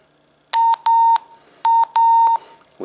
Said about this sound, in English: hear that Roger beep? A little bit different.